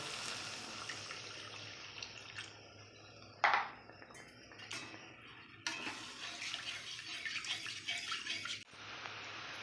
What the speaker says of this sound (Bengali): এবার আমার পরিমাণ মতন জল দিয়ে দেব।